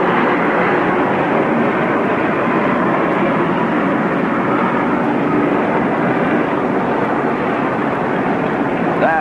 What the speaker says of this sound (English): a plane goes over Shea Stadium